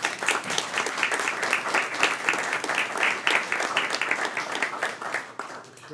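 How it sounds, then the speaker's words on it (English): Applause from the audience at a city council meeting in Asheboro, a steady dense patter of many hands clapping throughout. "So I think she deserves a round of applause."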